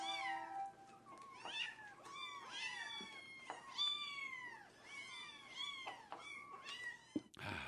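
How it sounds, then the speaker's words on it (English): Several kittens meow over and over, high plaintive cries overlapping in a busy chorus that fills the whole stretch, close and clear with no talking. "how many kittens can you hear now?"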